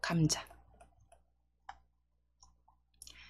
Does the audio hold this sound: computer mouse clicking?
yes